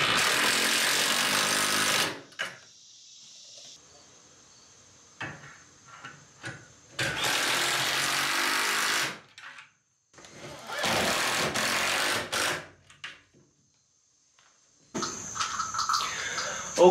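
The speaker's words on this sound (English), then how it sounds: "It really helps to have an impact driver with the right size socket." Impact driver with a socket tightening bolts on a shed under construction: loud, close bursts of rapid hammering, each lasting a second or two, separated by silences and a faint high whine.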